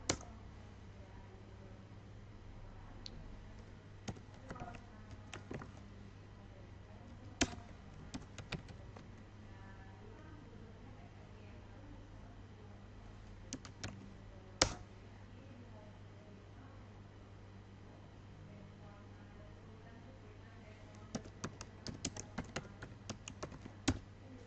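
Typing on a computer keyboard to enter reference details in Mendeley, with faint scattered key clicks in short bursts and pauses over a quiet room hum.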